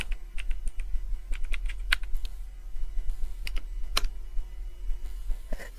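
Typing on a computer keyboard while entering network switch configuration commands: scattered quick keystrokes and a few sharper key presses, close and fairly quiet, with no voices.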